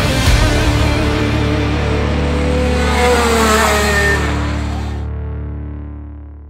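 Rotax go-kart engine racing through the final corner, a loud high-pitched buzzing rev that holds strong, shifts pitch and then fades away toward the end.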